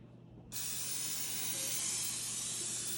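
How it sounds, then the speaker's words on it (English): A sudden, steady hiss of Pam cooking spray onto a baking sheet starts after a brief quiet moment and continues evenly, close and fairly loud. "I'm going to spray my pan"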